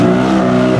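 A race car engine at a hill climb holds a loud, steady high rev for a brief moment, running alone without speech.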